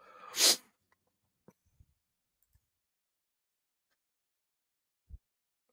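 A single loud, sharp sneeze bursts out close by, followed by a few faint clicks and a soft thud in an otherwise quiet room.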